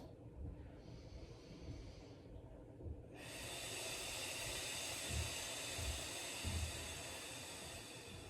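A person exercising on the floor during an abdominal workout, with slow, close, airy breaths in and out. A steady hiss from an air vent or fan rises and stays loud underneath, and no one speaks.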